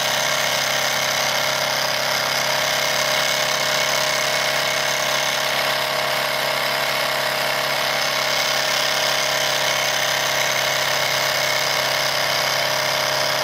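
A Wilesco D101 toy steam engine runs in steam, giving a continuous, even hiss and whir that holds steady and fairly loud throughout, with no voices over it.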